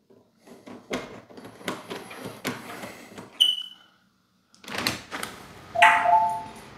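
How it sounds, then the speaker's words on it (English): A door is opened to trip a Ring Alarm contact sensor: a run of clicks and handling knocks, a brief pause, then more rattling and a short bright electronic chime near the end. "Okay, that's done, and then we'll open the door and test it."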